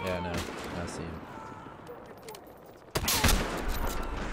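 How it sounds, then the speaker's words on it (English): Sniper rifle gunfire in Battlefield Hardline Conquest on Xbox One, mixed with steady battlefield noise and some talk, ending in one loud sharp report and a rumbling tail. "now the sniper's trying to shoot at us because he's so loud"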